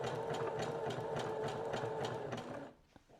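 Sewing machine stitching joins in lace fabric, a close, steady rapid whirring hum with a regular stitch pulse that stops near the end, followed by a faint click.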